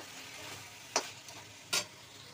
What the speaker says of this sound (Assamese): আৰু অলপ সময় এইদৰে ভাজিব লাগিব